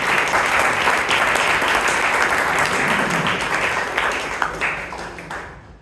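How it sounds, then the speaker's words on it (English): Sustained applause from the audience at a Toastmasters club meeting in Bangalore, dense clapping from many hands that holds steady and then tapers off near the end, with little talk. "please give Amrith a big round of applause"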